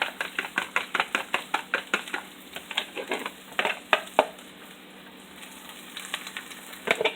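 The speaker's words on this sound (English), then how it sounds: "And we're just going to scramble this up." Eggs, cheese and chilies sizzling in a pan as they're scrambled for keto breakfast burritos, a soft steady sizzle under a rapid series of spatula scrapes and taps against the pan, close, with a brief quieter pause midway.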